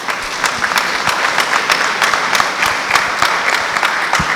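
A seated audience at a community cultural gathering applauds steadily, a dense wash of clapping with a few sharper nearby claps standing out, sustained throughout.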